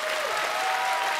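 Studio audience at a music-guessing game show applauding a contestant, a steady wash of clapping filling the whole short moment at even loudness, with no pauses.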